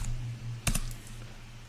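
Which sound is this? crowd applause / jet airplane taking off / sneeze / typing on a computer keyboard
typing on a computer keyboard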